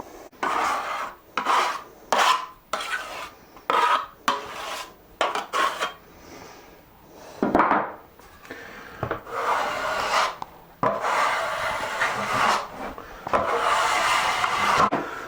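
A small taping knife spreads drywall joint compound over plasterboard joint tape in repeated rasping, scraping strokes of about a second each, with short pauses between them.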